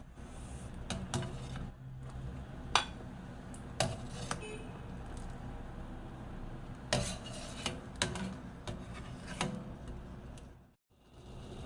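Solids scooped out of a simmering pot of potato dumpling soup with metal utensils, irregular clinks and scrapes against the pot over a low bubbling background, close by and without voices.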